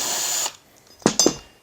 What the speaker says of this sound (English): you can see how much quicker it is when you have a drill